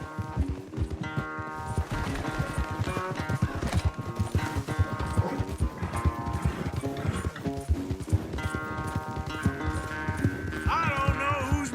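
Galloping horse hooves pound steadily through a horse race in Red Dead Redemption 2, a continuous loud rhythm mixed with a dense musical score for the whole stretch.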